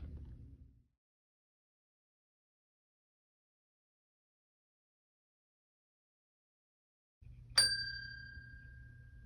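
A small ghost bell used in a paranormal investigation gives a single clear ding that rings out and decays, following a brief low rumble and a long silence.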